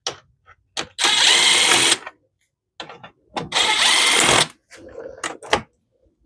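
Power tool driving out Torx T40 center bolts on the front fascia of a Polaris RZR Pro R, two sustained loud whirring bursts about a second each, with short clicks and handling knocks between them.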